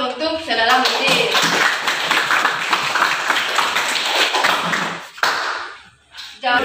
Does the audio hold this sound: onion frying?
no